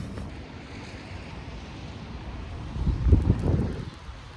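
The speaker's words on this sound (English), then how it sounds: "The wind started blowing." Gusty wind roars across an open waterfront near a citadel in France in winter, a steady rushing that swells into a louder, buffeting gust near the end, with faint surf beneath.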